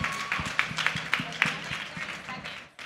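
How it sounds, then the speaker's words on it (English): An audience at a women's financial panel event claps in a steady, fairly dense round of applause for the organiser, heard close with a voice partly mixed in. "can we please give a round of applause to Maggie for putting this together"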